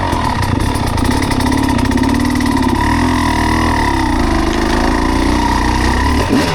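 A motorcycle engine drones loudly and steadily up close while riding in second gear, holding an even mid-pitched note without any talking.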